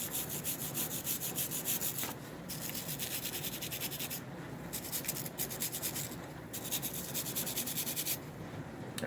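A brass brush scrubbing rust off a Marx 999 toy train, close rhythmic bristle strokes in quick back-and-forth bursts separated by short pauses, with no talking.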